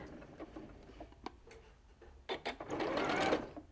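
A domestic sewing machine taking a few stitches through pieced quilting fabric on a curved seam: a few light ticks, then a short close burst of rapid mechanical whirring and clatter.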